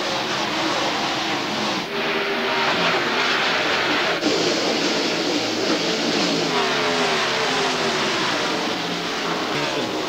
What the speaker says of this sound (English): Mark Martin takes the green flag as they go into the first turn.